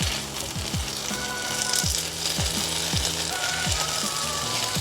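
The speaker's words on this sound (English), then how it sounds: "I have the heat on low, and I'm just going to stir the kale a little bit" Kale sizzling in a pan over low heat, a steady loud frying hiss with rhythmic scraping strokes as it is stirred.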